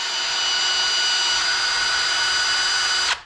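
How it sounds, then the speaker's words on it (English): An electric drill on low speed whirs steadily at a constant, even pitch for about three seconds, lapping a valve on a Ford flathead V8, loud and close, then cuts off abruptly. "put it in the drill, got it on low speed, and I'm running it back and forth"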